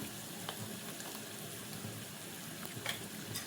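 Spices roasting in a pan for Maharashtrian dahi kadhi, a soft continuous sizzle and crackle with a few faint scraping stirs, quiet and close, no talking.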